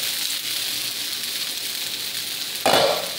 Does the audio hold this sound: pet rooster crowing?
no